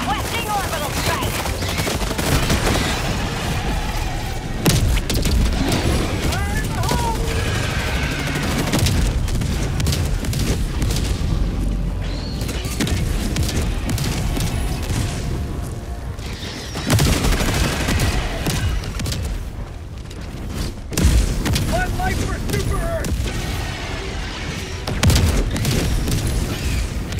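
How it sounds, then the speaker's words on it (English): Orbital strike explosions in the Helldivers 2 video game, a continuous barrage of loud booms and rapid gunfire-like bursts that fill the clip, with sharper blasts rising out of the din at intervals, under faint radio-style voices. "Requesting orbital strike!"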